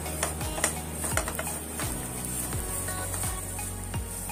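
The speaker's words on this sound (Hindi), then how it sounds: "फिर भूनेंगे अच्छे से मिक्सचर को।" Veg shammi kebab mixture roasting in a pan, stirred with a spoon: regular scraping and clinking strokes about every half second over a soft steady sizzle, quiet and close.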